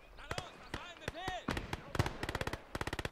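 Mortar fire in the WWII game Gates of Hell, with heavy booming blasts mixed with rapid cracking gunfire bursts. The shots come in quick, sharp volleys that are loud and close, with voices in the background.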